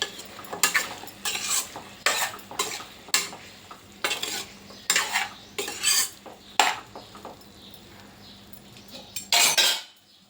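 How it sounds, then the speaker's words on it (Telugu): A utensil stirs chicken and broad bean curry with salt in a pot, producing rhythmic scraping, clanking strokes over a low sizzle, close and fairly loud, with no talking. "సాల్ట్ వేసుకొని కలుపుకోవాలి"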